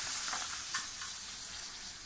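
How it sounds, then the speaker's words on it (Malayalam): Pappadam frying in hot coconut oil in a home kitchen gives a soft, continuous bubbling sizzle, heard close but at low level with no talking. "കറി റെഡിയാക്കി കഴിഞ്ഞിട്ട് പിന്നെ പപ്പടം വറുക്കാനായിട്ട് എടുത്തു."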